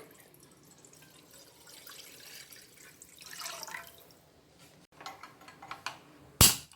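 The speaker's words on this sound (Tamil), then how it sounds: "ஒரு பேன் வச்சுருக்கேன் அதில் முக்கால் லிட்டர் பால் சேர்த்துக்கிறேன்" Milk is poured into a pan in a home kitchen. The soft, faint trickle comes in uneven spurts with scattered drips, and a sharp clatter sounds near the end.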